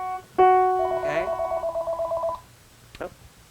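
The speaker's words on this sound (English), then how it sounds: "Oh, sorry, phone call." A telephone rings with an incoming call during a piano lesson: a loud, close electronic warble pulses steadily for about two seconds, then stops, leaving a short faint sound afterward.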